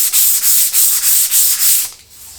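Sandpaper rubbed back and forth over wood in light, even strokes, a loud rhythmic hiss of about seven passes before a pause.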